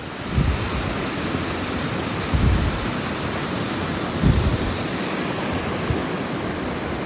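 Dense, hissing downpour of heavy rain on a mountain hike near a river, steady and broadband, with a few low rumbling thumps breaking through.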